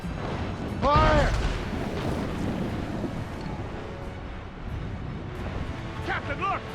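Ship cannons firing during a naval battle in Assassin's Creed Rogue, booming broadband blasts over rolling wind and sea noise, with shouted voices over the action near the start and end.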